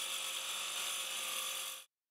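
An Einhell TEXC110 circular saw with a carbide-tipped blade cuts, giving a steady high whine that holds for nearly two seconds, then stops abruptly into silence, close and alone.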